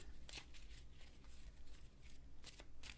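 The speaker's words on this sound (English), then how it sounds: "I don't know why I'm shuffling again, but nothing's flying out." A deck of cards being shuffled during a card reading, heard as quiet, close riffling and snapping bursts spread across about three seconds, with no talking.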